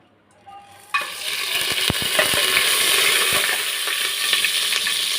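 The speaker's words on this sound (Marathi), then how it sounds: "तूप पण चांगलं गरम झाले आणि तेलसुद्धा गरम झालेलं आहे. त्यामध्ये आता आपण हे गरम मसाले टाकूया." Whole garam masala spices drop into hot ghee and oil and burst into a close, steady sizzle after a brief quiet start, with a few small clinks from the pan and no voices.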